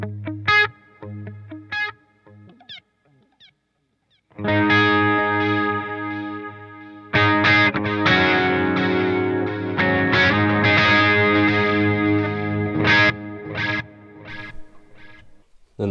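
Electric guitar played through the modulated delay of an M-Vave Tank G multi-effects modeler, with sparse picked notes at first, then fuller strummed chords whose repeats shimmer and waver as they trail off, loud and up close.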